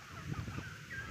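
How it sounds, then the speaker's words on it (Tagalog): Faint turkey gobbling at a distance, a short burst of warbling calls over quiet background. "Nakakatuwa talaga yung mga pabo natin guys."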